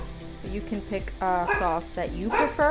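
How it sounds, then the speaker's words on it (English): Dogs bark faintly in the background of a kitchen while a sweet soy glaze and Thai chili sauce go into a sizzling pan, partly masked by a person talking. "Sorry about the dogs, if you can hear them."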